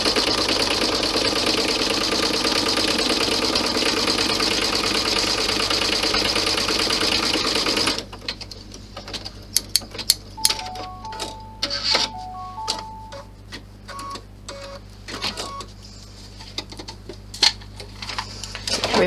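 An embroidery machine stitching a zip purse in a hoop whirs loudly and steadily, then gives way to rapid clicking and ticking with short beeps over a low hum.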